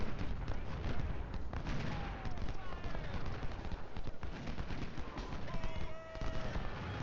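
Constant crackling musket fire and artillery booms from a Civil War battle at Manassas Depot in Ultimate General: Civil War, dense and unbroken, with people talking over the din.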